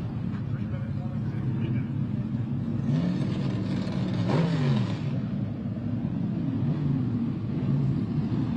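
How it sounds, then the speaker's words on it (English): Vintage Trans Am race cars pull in at a Sebring historic racing event, their engines droning and revving, with one rising and falling sweep in the middle as a car passes close, under a person talking. "How cool is this, pulling in the actual Trans Am cars from back in the day?"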